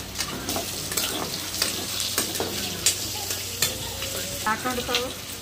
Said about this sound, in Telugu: ఆయిల్ అయితే పోసుకున్నామండి. ఒక పక్క అయితే బాగా ఫ్రై అయింది కదా